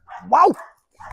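A dog gives a short, loud excited bark-yelp while lunging to bite a toy during a protection-training session, followed by a brief softer vocal sound; a person's exclamation is heard too.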